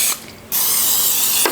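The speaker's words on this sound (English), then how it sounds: "I am going to go ahead and spray this one lightly." Cooking spray hisses onto a hot George Foreman Evolve cupcake maker in two bursts, a brief close spritz and then a longer steady spray, with no talking.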